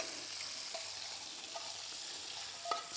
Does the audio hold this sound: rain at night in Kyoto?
no